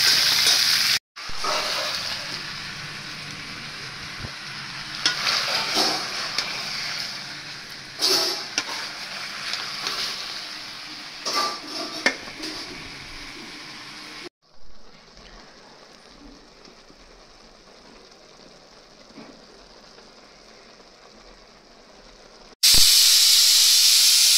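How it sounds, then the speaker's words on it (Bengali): Papaya pieces frying lightly in a pan, a strong close sizzle with stirring knocks that cuts off to a softer, even hiss partway through before a loud burst at the end; no talking. "পেঁপেগুলোকে ভেজে নিচ্ছি একটু হালকা করে"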